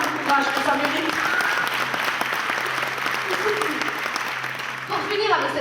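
An audience applauds steadily at a studio comedy show, with dense clapping throughout and a voice briefly heard near the end.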